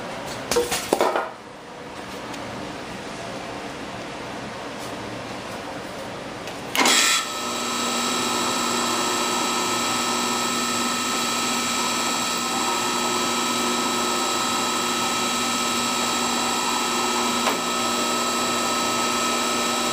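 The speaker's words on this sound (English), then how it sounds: "I gotta drill these holes." A power drill whirs steadily at close range, starting with a brief burst and then running continuously at high speed.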